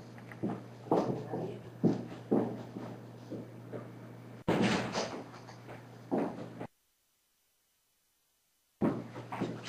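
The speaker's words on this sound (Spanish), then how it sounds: "voy a cerrar la puerta" Footsteps and shuffling in a room, with several thumps and knocks of a door being handled and shut, then a stretch of near silence and a few more muffled movements.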